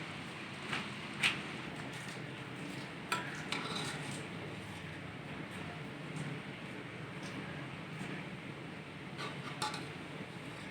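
Chinese chicken and vegetable biryani is served from the pot into a dish, with soft scraping, sporadic clinks of a spoon against metal and faint background hiss, fairly quiet throughout.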